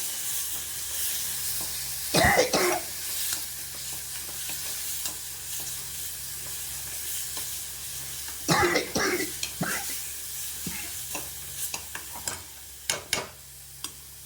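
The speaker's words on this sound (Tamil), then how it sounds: "அரைச்சல் போட்டுட்டேன். ஒரு 2 நிமிஷம் வதக்கிடலாம்." Ground masala paste sautéing in a pan gives a steady low sizzle throughout, broken by a few louder scraping stirs and clustered clattering strokes near the middle and end.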